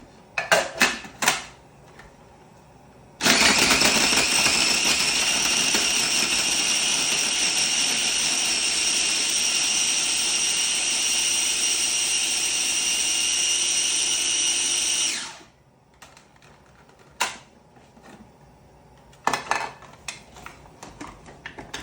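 A food processor grinds lemon pesto ingredients for a Calabrian lemon pesto, a loud steady whir running about twelve seconds alone, starting abruptly and then winding down, with brief clatters before and after.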